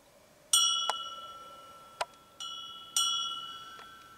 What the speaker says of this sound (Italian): Adesso ascolteremo i ritocchi della campana della sacrestia.